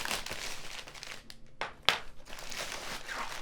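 Crinkly plastic wrap being cut and pulled off the box of a NEJE DK-8-KZ laser engraver, a close, continuous crackling rustle with a sharper snap near the middle.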